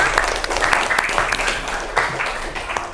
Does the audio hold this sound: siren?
no